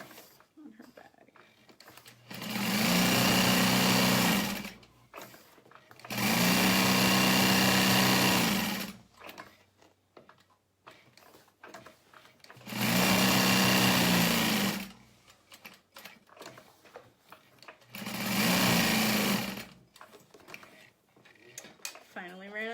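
A sewing machine stitches a tote bag in four loud, sustained runs of several seconds each, separated by quieter gaps with faint handling sounds and occasional talk.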